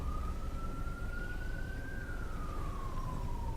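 Ambulance siren in GTA 5, a steady, loud wail sweeping slowly up and then down in pitch over constant low traffic rumble, no talk.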